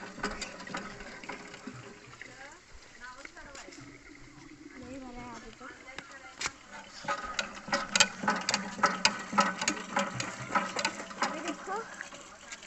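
Canal water is filled into a container, with a steady gushing pour through the clip that grows into splashing bursts toward the end, heard close while people talk over it.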